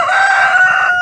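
A white rooster crows loudly and close by, one sustained strained call filling the whole moment with no talking.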